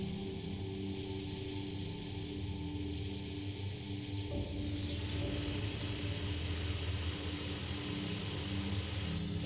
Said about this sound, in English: That's a car.